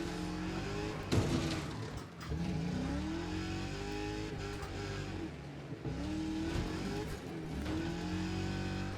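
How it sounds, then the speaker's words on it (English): Cars in the racing video game Wreckfest 2 rev their engines and skid while doing donuts, with engine whine rising and falling and sharp impact bursts from crashes, a continuous mix of motor and tire noise. "This feels like doing donuts in the car park, but with crashing."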